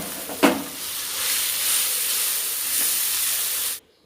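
Amla gooseberries sautéing in a pan give a steady, bright sizzling hiss with a sharp crackle near the start, holding even for a few seconds before cutting off abruptly.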